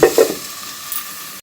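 Vegetables for a vegetarian navratan korma, including beans and capsicum, are stirred in a hot pan. A few close scraping strokes come first, then a steady sizzle settles in and runs alone.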